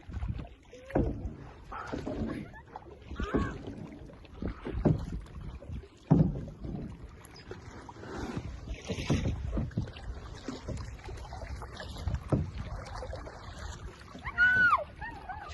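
A boat is paddled across the reservoir at Mae Ngat Dam near Chiang Mai, with repeated splashes and paddle strokes, gusts of wind and people talking and exclaiming throughout.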